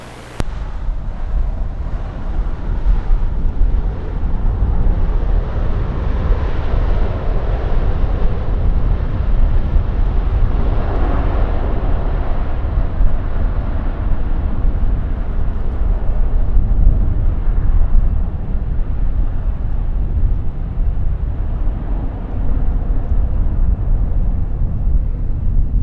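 A Virgin airliner on approach to runway 07 at Montego Bay, Jamaica: a loud, steady broadband jet roar that holds for the whole stretch without letting up, with no talking.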